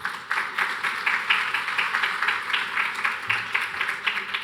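Applause from a seated conference audience at a panel session on funding metro-rail systems, a steady dense patter of many hands clapping throughout, moderately loud with no talk over it.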